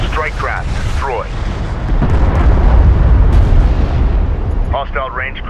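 Destroyed strike craft exploding in the Homeworld: Deserts of Kharak video game, a loud sustained rumbling blast that swells in the middle, with radio-style voice chatter at the start and end.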